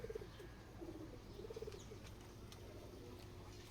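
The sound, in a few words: pigeons cooing on the rooftop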